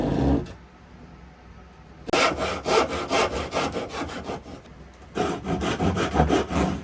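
Small wooden pieces are cut with a hand saw, a short stroke at the start and then two runs of fast, rasping back-and-forth strokes, close and clear with a quiet pause in between.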